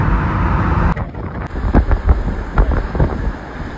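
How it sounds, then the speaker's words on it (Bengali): A rushing river in Solang Valley near Manali, heard as a steady loud broadband wash of water with gusts of wind buffeting the microphone and a few sharp knocks. "নদীর কলকল শব্দ"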